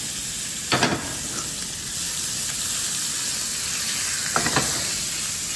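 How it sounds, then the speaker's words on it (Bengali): Stinging catfish (shing fish) fry in a hot pan. A steady, moderate sizzle carries throughout, with two brief utensil clatters near the start and end. "মাছ দিয়ে পর মাছ উল্টানোর জন্য অস্থির হবেন না, এক পাট হতে দিবেন"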